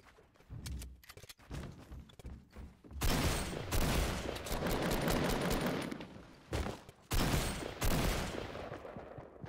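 Shotgun blasts in the Fortnite Mobile video game, a rapid run of loud, closely spaced booms with a dense burst of gunfire in the middle and further shots near the end.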